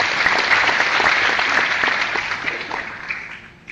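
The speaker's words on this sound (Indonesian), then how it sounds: "Tepuk tangan untuk Kang Randy Saputra." An audience at a motivational talk breaks into loud, sustained applause that fills the room, then gradually thins and fades toward the end.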